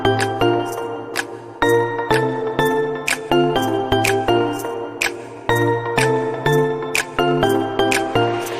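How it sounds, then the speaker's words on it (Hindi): A small household prayer bell struck repeatedly during incense worship at home, bright ringing tones chiming at a steady rhythm of roughly two strikes per second, each ring overlapping the last, close and clear with no talking. "कभी घंटी बजा रहा था"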